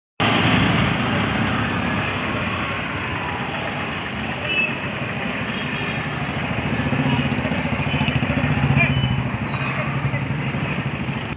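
Several motorcycles at a Tiranga bike rally flag-off at a CRPF camp rumble and idle loudly and continuously, a steady engine drone with slight swells throughout, with faint crowd murmur underneath.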